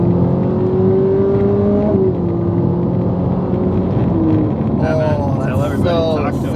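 A Ferrari 458 engine revving hard and downshifting, loud and close from inside the car, with pitch dropping at each shift and a burst of blips near the end, while a voice talks over it.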